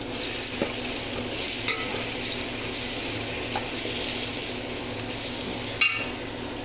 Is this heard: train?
no